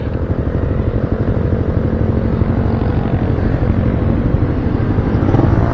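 A motorcycle exhaust fitted with a single silencer drones loudly and steadily up close, a harsh, buzzing rumble much like a tricycle engine, with no speech.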